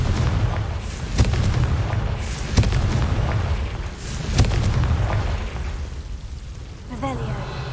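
Several booming fire-spell blasts from Confringo in Hogwarts Legacy, recurring roughly every second or two amid a dense rumbling game soundscape of magic effects, loud and close.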